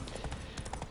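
A horse's hooves clip-clop at a quick pace in The Witcher 3 on PS5, a brief run of soft, evenly spaced hoofbeats.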